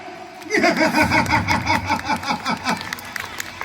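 An audience at a festival stage program in Thiruvananthapuram breaks into a burst of clapping that rises sharply, holds briefly and then tapers off.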